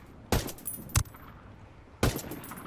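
R4 rifle gunshots in the video game Ghost Recon Wildlands: three sharp, close shots, two in quick succession and a third after a short pause, with no talking.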